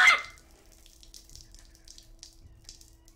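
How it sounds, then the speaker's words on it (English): A toilet flushes in a scary video game: a brief loud watery rush at the very start, then a faint trickle fading underneath. "I got an achievement for flushing the toilet"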